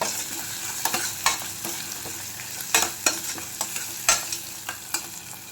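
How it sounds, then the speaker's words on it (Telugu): Ginger garlic paste frying and being stirred in a pan, with a steady low sizzle broken by repeated clinks and scrapes of the spoon, close by and fairly quiet. "ఇది కూడా పచ్చివాసన పోయేలాగా కలిపేద్దాం."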